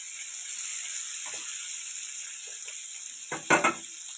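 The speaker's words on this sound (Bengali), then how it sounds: "আমি নেড়ে চেড়ে নিচ্ছি যাতে পেঁয়াজগুলো খুলে যায় তেলের মধ্যে" Onions frying in hot oil give a steady, loud hiss with no pauses, while a spoon clinks and scrapes against the pan a few times as they are stirred, sharpest near the end.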